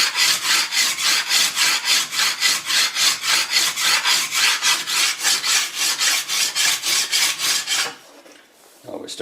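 A sharpening stone is rubbed back and forth along a sickle blade in regular, rhythmic rasping strokes, loud and close, before stopping near the end.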